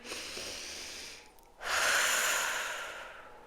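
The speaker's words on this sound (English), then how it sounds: "let's just all take a deep breath together" A group takes a deep breath together at the close of a calm meditation session: a long soft inhale, a brief near-silent pause, then a fuller, louder exhale that slowly fades.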